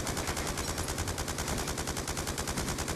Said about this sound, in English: everybody is freaking shooting at me